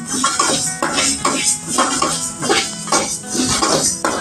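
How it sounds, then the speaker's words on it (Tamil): Coriander seeds dry roasting in a hot kadai while being stirred, giving repeated scraping and rattling strokes of a spoon against the metal pan in a steady rhythm, close and fairly loud, with no talking. "இதில் கடாய் சூடானதும் கொத்தமல்லி போடணும். அது கொஞ்ச நேரம் நல்லா கிளறி விடணும்."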